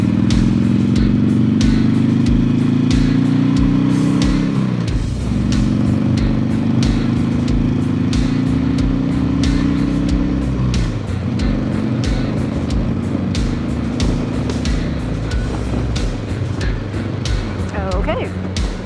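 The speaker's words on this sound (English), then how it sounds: "I am actually going also on the freeway on this bike for the first time." Harley-Davidson Sportster motorcycle with an aftermarket exhaust cruising on a freeway, loud steady engine drone with rising and falling revs and wind roar from the rider's position, continuous throughout.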